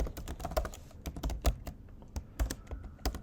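Rapid, uneven clacking of keys on a computer keyboard as LaTeX code is typed, close and clear, with no talking.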